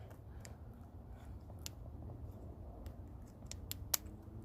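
A few sharp, quiet snips as an intake gasket for a 351W engine is trimmed, scattered over a low steady background rumble.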